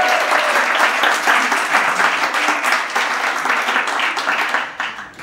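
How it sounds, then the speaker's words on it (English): Audience at a summer benefit gala applauding the welcome of guests and speakers, a dense, sustained round of clapping from a large room that fades slightly at the end. "You can clap."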